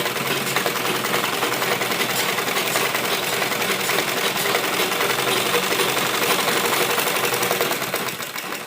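Sewing machine stitching a lined embroidered suit, running in a steady, continuous whir with fine rapid needle clatter that holds loud and even for about eight seconds before easing slightly at the end.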